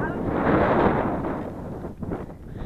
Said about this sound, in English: this wind is so brutal